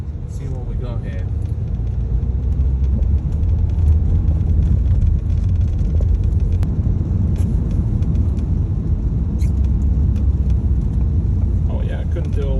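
Heard from inside, a 2017 Ford Kuga drives along with a steady, loud low rumble of engine and road noise that fills the whole stretch, with faint, sparse voice in the cabin.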